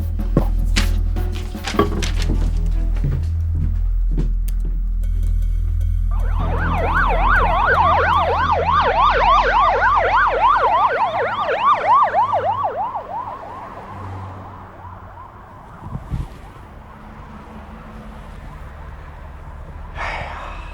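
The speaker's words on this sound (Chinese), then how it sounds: "这警笛声对于我来说就是美妙的音乐啊" A police car siren wails, rising and falling in quick repeated sweeps, loud and steady, over a low engine rumble, then fades away with a few knocks at the end.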